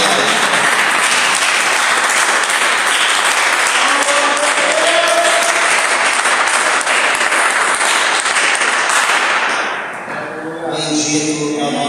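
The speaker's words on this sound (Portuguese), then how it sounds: "dê uma salva de palmas para Jesus" A church congregation gives loud, sustained applause, dense clapping filling the room for about nine seconds before dropping away as a voice speaks.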